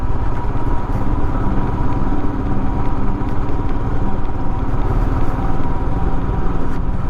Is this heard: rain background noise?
no